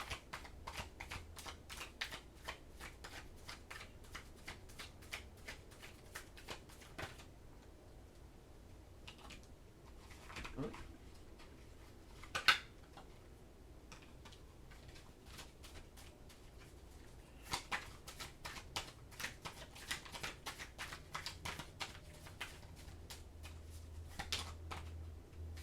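Tarot cards being shuffled, faint rapid riffling and tapping in quick bursts with pauses between, close and quiet, with no talking.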